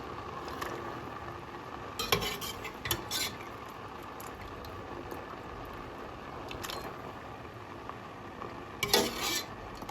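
Meat simmering in jameed sauce for Jordanian mansaf made with Karak jameed: a faint, steady bubbling in a pot, broken by occasional stirring scrapes and metal clinks of a utensil against the pan.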